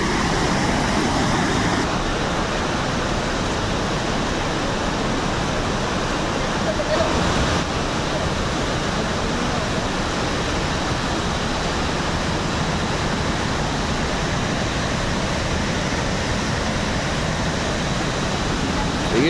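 The Pailón del Diablo waterfall in Baños, Ecuador roars as a dense, constant wash of falling water that stays loud and unbroken throughout.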